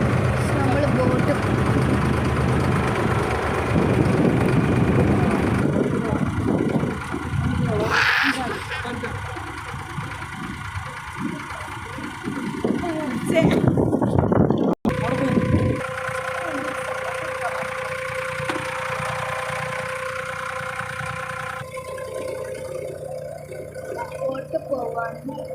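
A boat engine idles in Bur Dubai, a low steady rumble running throughout with crows cawing and people talking over it, the sound dropping to a quieter hum partway through.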